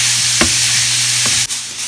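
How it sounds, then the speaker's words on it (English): Food for a keto Philly cheesesteak sizzles and fries in a pan as a steady bright hiss. Faint scraping stirs and taps mark the stirring, and a low hum runs underneath with no talking. "We need to deal with it frying up though."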